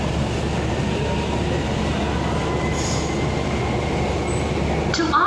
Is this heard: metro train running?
yes